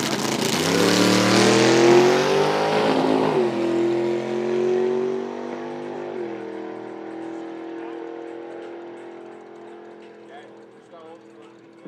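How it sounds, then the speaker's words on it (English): A 1940 Willys Coupe gasser drag car powered by a first-generation 392 Chrysler Hemi roars loudly down the strip at a drag race, its engine note peaking early then fading as it pulls away, with commentary talk over it. "And he finishes it up with a nice 698 in the 40 Willis Coupe"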